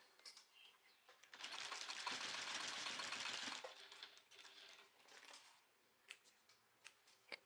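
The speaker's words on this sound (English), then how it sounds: "And we're going to top stitch with a 1/4 inch." A sewing machine runs in one steady burst of about two seconds while top stitching a zipper folder at a quarter inch, close and clear, followed by softer handling noises, clicks and taps of fabric and tools.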